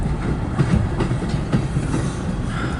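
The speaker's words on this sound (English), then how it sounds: "This is a big train." CN M384 eastbound freight train rolls slowly past at close range in Port Huron, Michigan, a continuous loud rumble with rhythmic clickety-clack of wheels over rail joints.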